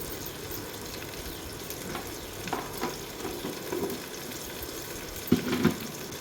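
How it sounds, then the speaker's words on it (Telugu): Tomato pieces fry with salt and chilli powder in a pan, giving a steady moderate sizzle with occasional stirring scrapes and a couple of brief clinks toward the end. "మనం కట్ చేసుకొని పెట్టుకున్న టమాటో ముక్కలు కూడా యాడ్ చేయాలి ఇలా వేగుతున్నప్పుడే ఉప్పు కొంచెం కారము వేసుకోవాలి"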